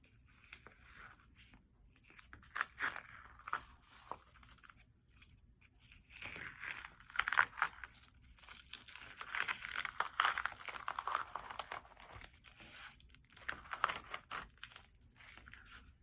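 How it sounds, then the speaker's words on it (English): Tape is slowly peeled from a children's painting, giving a run of close crinkling, tearing rips in bursts with short pauses between, fairly soft overall. "Carefully take a tape off"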